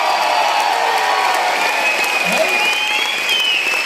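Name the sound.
applause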